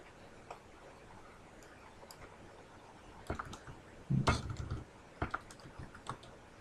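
Keys clatter on a computer keyboard while a value is entered in 3D modeling software, sparse soft taps building to a quick close burst of clicks, then a few scattered keystrokes.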